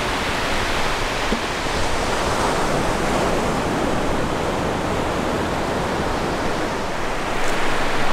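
Surf pounding against the high coastline of Hokkaido makes a steady, loud roar of breaking ocean waves, mixed with wind, with no voices.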